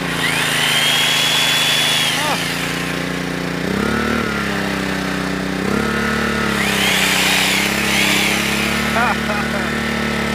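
A small jigsaw buzzes loudly and continuously, powered by a vintage Honda E300 portable generator, its motor pitch rising and sagging under load over the generator's steady drone, with someone speaking over it.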